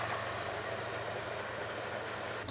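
A train rumbles past close to a riverside campground on an autumn RV trip, a steady loud roar of rolling wheels and rail noise held throughout without voices.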